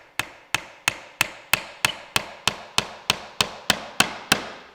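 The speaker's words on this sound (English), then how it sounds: "I'll put a couple nails in" Steady hammer blows drive nails into pre-drilled wood while building a birdhouse, about fourteen sharp, evenly spaced strikes ringing close and loud with no talking.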